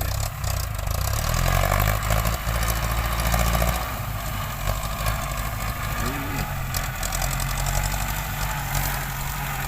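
A Hino 700 series truck hauling sugarcane out of a field, its heavy diesel engine giving a steady, loud, close rumble with a low idling throb throughout, and a voice speaks briefly over it.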